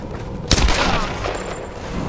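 Burst of gunfire in the Tomb Raider video game: a sharp loud shot with a crackling decay, followed by a fainter second burst, with no talk over it.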